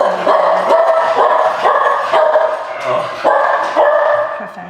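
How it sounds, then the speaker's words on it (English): A dog barks repeatedly in sharp, evenly spaced bursts close to the microphone at a home nail-care session, loud and continuous throughout. "I warned you my dog would probably bark"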